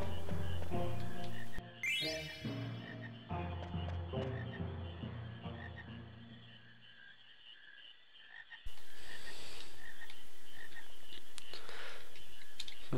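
Frog croaking in Final Fantasy IX, a run of distinct croaks alongside tinkling chimes and game music, loud and close, ending in an abrupt switch to a different noisy game scene.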